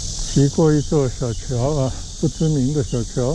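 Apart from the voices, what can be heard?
cicadas chirping along a tree-shaded path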